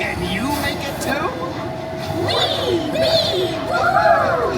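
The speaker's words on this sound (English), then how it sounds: "Oh, the mighty trolley train makes a loud hullabaloo." The Seuss Trolley Train ride at Universal's Islands of Adventure rolls along its track with a steady rumbling hum and whirring tones rising and falling, moderately loud, as voices chatter throughout.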